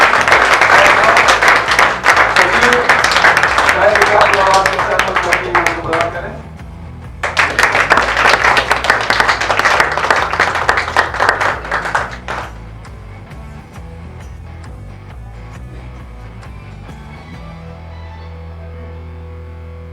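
An audience applauds a speech competition prize winner at a school science exhibition. Dense, loud clapping runs for several seconds, breaks briefly, surges again, then gives way to quieter background sound. A voice speaks during part of the clip.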